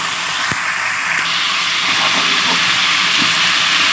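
Cut flat beans hit a hot pan with fried chillies and oil, setting off a loud, continuous broad hiss that stays steady, with a few faint clicks and knocks underneath.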